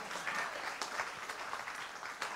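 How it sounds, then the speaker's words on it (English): An audience at a gospel concert claps in a steady, moderately distant wash of applause, short and continuous with no voices standing out. "you can clap right there"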